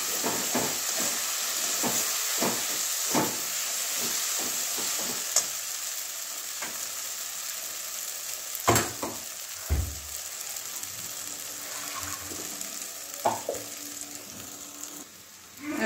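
Fenugreek greens and chana dal are stir-fried in a pan, giving a close, steady sizzle with frequent spatula scrapes and knocks, thinning out toward the end.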